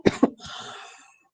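Two sharp coughs in quick succession from a person during an online class, followed by a softer breathy exhale trailing off into silence.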